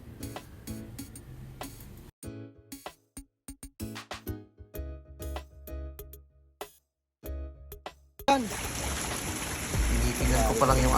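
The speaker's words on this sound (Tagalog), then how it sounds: "Tinitingnan ko pa lang yung agos ng tubig" A mountain stream flows over rocks, heard as choppy bursts under frequent talking before a steady, close rushing of water takes over for the final seconds.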